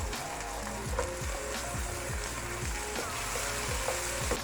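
Garlic-ginger paste and tomatoes fry in a pan for a mutton yakhni pulao, a steady, fairly quiet sizzle broken by repeated rhythmic stirring scrapes and taps, with no voices.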